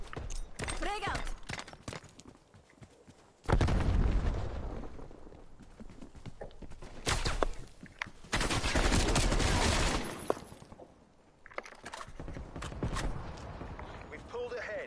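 Gunfire and explosions in the Call of Duty Cold War video game, with a frag grenade blast among heavy bursts of rifle fire and booms alternating with quieter stretches and spoken voices.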